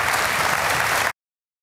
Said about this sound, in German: Applaus nochmal.